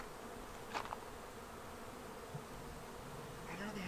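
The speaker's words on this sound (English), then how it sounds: "No, those are bees" Bees buzzing along a mountain bike trail, a faint steady hum under outdoor wind noise with a few brief louder passes close by.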